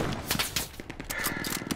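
Rifle fire in the WWII shooter Hell Let Loose on the Utah Beach map, a rapid series of sharp cracks and distant reports scattered through a noisy battlefield backdrop.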